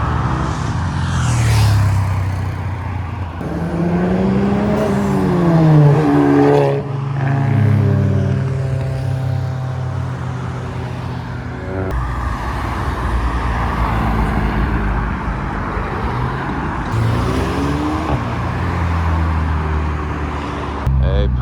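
A Nissan S14 drift car pulls away from a street car meet, its engine revving hard in several loud bursts that climb and drop, close by amid crowd noise and passing traffic.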